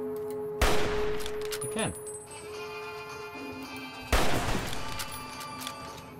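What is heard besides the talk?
gunfire in Fallout New Vegas video game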